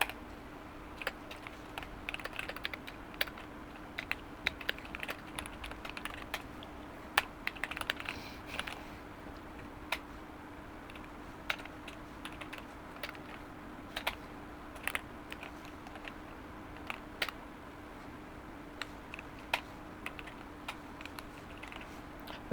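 Keys on a computer keyboard clatter as code is typed, in a steady stream of light, close clicks with occasional louder strokes over a quiet room hum, and no one speaks.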